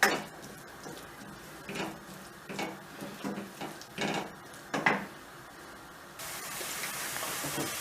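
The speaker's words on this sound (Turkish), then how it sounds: "ocağımızın altına tam gaz açıp bunları bir güzel kavuruyoruz" Olive-oil-dressed borlotti beans are stirred and sautéed in a pan over a full-heat stove, giving soft sizzling under repeated light clinks and scrapes of a utensil against the pan, with a brighter hiss rising near the end.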